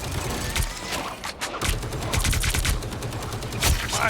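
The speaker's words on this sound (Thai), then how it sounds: "ยิงหมดแม็กอะ ยิงหมดแม็ก" Rapid bursts of Marvel Rivals gunfire, a full magazine emptied, dense and loud, with a short pause before the shooting resumes.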